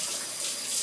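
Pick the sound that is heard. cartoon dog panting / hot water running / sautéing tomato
hot water running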